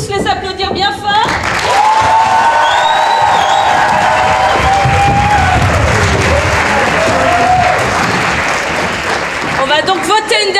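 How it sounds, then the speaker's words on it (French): Loud audience applause with cheering after improv matches at a student event, dense and sustained throughout, with a voice briefly heard over the crowd near the start and end. "Je pense qu'on peut tous les applaudir bien fort."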